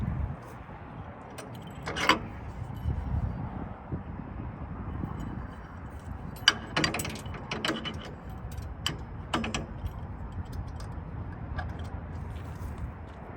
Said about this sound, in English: Now we are on to the step where we pin the gate mechanism down.